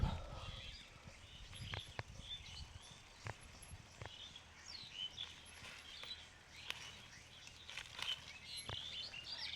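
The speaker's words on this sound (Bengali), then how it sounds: "কিচির মিচির শুনুন" Birds chirp and twitter near rice paddies flanked by low hillocks in a Gazipur village, with scattered high calls over steady outdoor background noise and a few sharp clicks.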